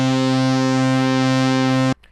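An Arturia MicroFreak synthesizer holds a steady, buzzy lead tone with its LFO rate being adjusted, a sustained rich harmonic drone that stops abruptly near the end, leaving a faint tail.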